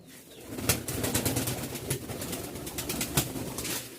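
Giribaz pigeons coo close by at a pigeon fair, with soft fluttering and shuffling throughout.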